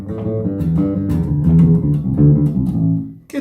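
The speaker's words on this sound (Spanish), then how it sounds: "Estoy repitiendo una nota." An electric or acoustic guitar picks a pentatonic pattern built on repeated notes, a quick run of plucked tones stepping upward, close and clear with no voices.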